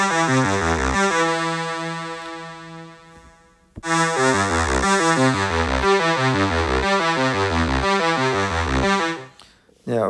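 A TAL-U-NO-LX software synth plays a sawtooth patch with chorus and arpeggiator, its bright, loud stepping arpeggio running with a sustained chord, cutting off briefly near the middle before the rapid sequence resumes.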